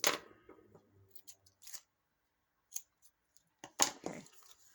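Scissors trim ribbon at the top of a composition journal in a few quick, close snips scattered among quiet pauses, with light handling rustle.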